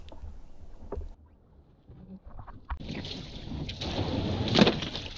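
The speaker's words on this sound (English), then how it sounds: "we were able to paddle across the harbour to a little beach where we could stop for lunch" A kayak is paddled across a harbour on the coast. At first only faint scattered knocks and splashes are heard, then a steady rush of water and wind builds up, growing louder toward the end.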